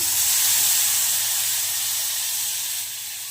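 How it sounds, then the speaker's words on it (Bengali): Loud, steady hiss of spices hitting hot oil, sizzling continuously and easing off slightly toward the end, with no talking. "আমি এবার ফোড়ন দিয়ে দিচ্ছি"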